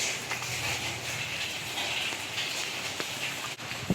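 A soft, steady hiss of light rain, heard from inside a garage, with occasional drips and faint taps on a nearby surface.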